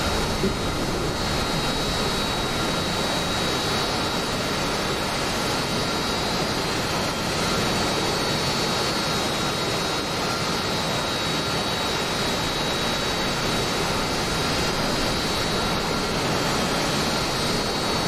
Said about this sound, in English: I'm going to take off along that.